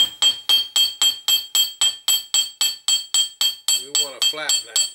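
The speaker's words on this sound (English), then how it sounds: "you can use the chasing hammer" A chasing hammer flattens jewelry wire for dangle feather earrings, striking about sixteen evenly spaced, bright ringing metallic taps in a steady rhythm, with a voice briefly heard near the end.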